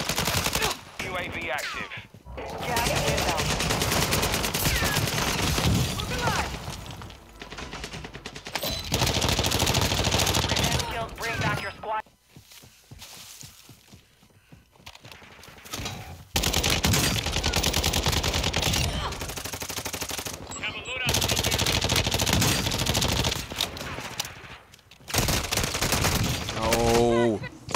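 Warzone 2 gunfire crackles in long automatic bursts and rapid volleys, with brief quiet gaps between, while players shout and talk over the shooting.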